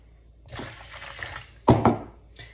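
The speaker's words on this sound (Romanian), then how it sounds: "un pahar jumate de apă călduță, care punem aici în bolul nostru" Half a glass of lukewarm water poured into a mixing bowl for flatbread dough, a soft trickling splash that builds into a brief louder gush near the end, close by in a quiet kitchen.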